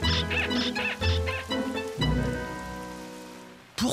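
Cartoon rain falls on a campsite in the Wild West, a steady patter with tonal, musical drops, rising and falling in short bursts before a louder hit at the end.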